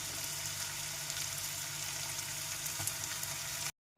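Steady soft sizzling of onions and green chillies sautéing in a pan, a continuous crackle with low hum underneath, cutting off abruptly just before the end.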